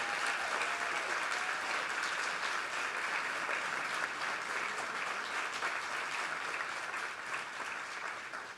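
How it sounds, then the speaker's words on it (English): A large audience at an HBCU film festival screening gives the cast and crew a sustained round of applause, dense and even clapping from many hands that holds steady throughout, with no talk over it. "Give them a big round of applause."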